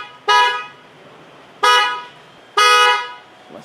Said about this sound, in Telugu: మనకు సిటీలో కొంచెం మంచి గట్టి లౌడ్ హారన్ కావాలని కస్టమర్ ఒక రిక్వైర్మెంట్